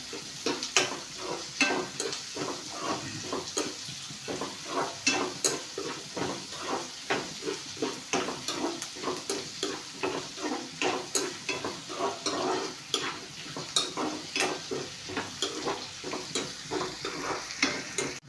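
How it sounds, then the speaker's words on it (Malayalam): Potatoes stirred into a pan of frying beef, a steady sizzle with rhythmic scraping strokes of the spoon repeating throughout, close and fairly loud. "നമുക്ക് കിഴങ്ങ്, ഉരുളൻകിഴങ്ങ് ഇട്ട് കൊടുക്കാം. ഇത് നന്നായിട്ട് ഇളക്കി കൊടുക്കണം."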